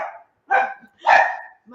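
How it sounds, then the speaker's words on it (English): A small mini dachshund puppy barks at a much larger cane corso, three sharp high-pitched yappy barks close by, evenly spaced with short silences between them. "10-pound mini dachshund puppy is just barking at the 100-pound cane corso"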